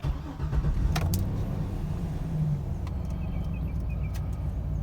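A 2008 Chevrolet 2500 HD pickup with a 6.0 V8 rumbles steadily and low, close by, with a few faint clicks and rattles over the engine.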